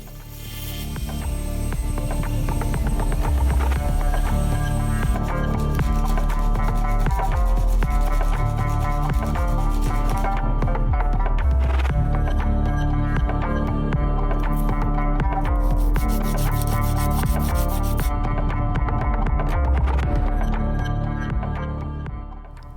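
A silver and brass pendant is filed and shaped by hand, a continuous close rasping scrape with steady back-and-forth rubbing that runs without pause at an even level throughout.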